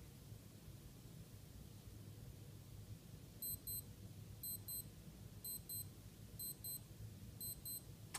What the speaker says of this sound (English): And that's what the alarm sounds like.